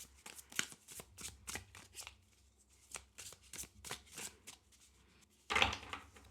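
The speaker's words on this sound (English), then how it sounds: "So let's see how this shuffles." Tarot cards are shuffled repeatedly in quick riffling bursts, close and crisp, ending with a louder fluttering cascade.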